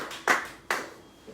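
Two sharp claps, or short bursts of clapping, from a church congregation acclaiming God, spaced about half a second apart, with a faint softer tap at the end.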